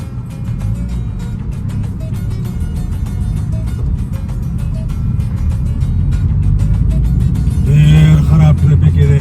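A car drives through congested Moscow traffic, a steady low engine and road rumble with clicking interior noises, swelling louder near the end as the vehicle speeds up.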